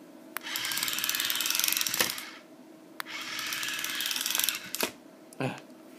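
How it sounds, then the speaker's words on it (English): A remote-control Transformers toy robot transforming: rapid whirring ratchet clicks of gears in two long bursts, set off by sharp plastic clacks, then a final clunk. "And yes, they always make that little clicky noise."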